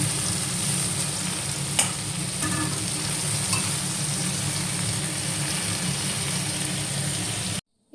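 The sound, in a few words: olive pickle cooking and being stirred in a pan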